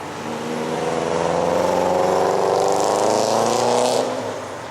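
Car engine growls loudly and steadily on a town street in Bristol on the Virginia–Tennessee line, swelling as a vehicle passes close by with a rising rev and then fading, no talk over it.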